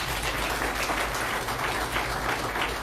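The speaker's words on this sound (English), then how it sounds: "let's give ourselves a hand of applause" Audience at a Biafra community gathering in New York applauding together, a steady dense wash of clapping that holds at an even level throughout without pauses.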